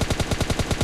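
Rapid automatic gunfire in PUBG Mobile, about nine evenly spaced, loud, close shots in under a second, heard without speech.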